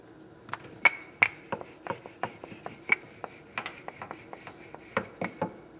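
A rolling pin flattens kulcha dough, an Indian flatbread, on a board. It makes an uneven series of close, soft knocks and taps, with a few sharper clacks, and no one speaks.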